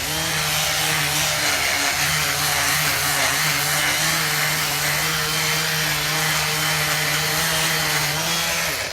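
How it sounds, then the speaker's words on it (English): A power sander drones steadily and loudly on a wooden outdoor bench, with a constant motor hum and rough grinding texture, uninterrupted throughout; no voices. "Okay, here we go. Sanding."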